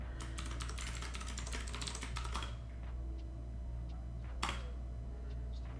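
A systemctl command is typed on a computer keyboard: a quick burst of dense key clicks for about two seconds, then a pause and one more isolated keystroke, with a low steady hum underneath.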